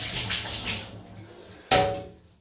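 Water running from a tap while a safety razor is rinsed, a steady close splashing hiss that fades out, then a sharp knock or clack near the end.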